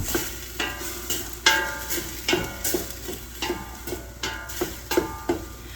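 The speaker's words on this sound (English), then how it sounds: "after I get this garlic stirred around a little bit and cooked it for a minute" Garlic, about a heaping tablespoon, sizzles in oil in a pot for a beef pot pie while a spoon stirs it, with regular scraping strokes roughly every half second over a steady frying hiss, close and clear.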